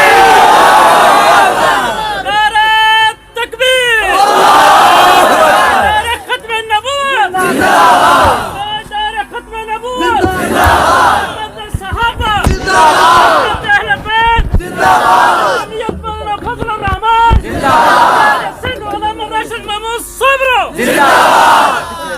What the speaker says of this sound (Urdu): بغیر مائک کے اللہ اکبر کی صدا بلند کریں